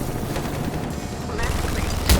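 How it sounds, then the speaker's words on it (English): Punchy, powerful gunfire from the tutorial weapon in the shooter IronSight, a steady rattle of shots under a thick game soundscape that ends in one sharp, louder blast. "Guns feel pretty good, at least the one in the tutorial, punchy and powerful"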